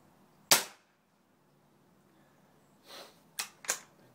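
A pellet gun fires at a 65 yard target outdoors, one sharp crack followed after a pause by a softer pop and two more quick sharp snaps, quiet surroundings and no talk.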